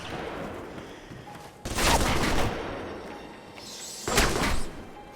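Turret gunfire in the game Alpha Protocol, two loud bursts of rapid automatic fire about two seconds apart, each lasting under a second, against quieter background game noise.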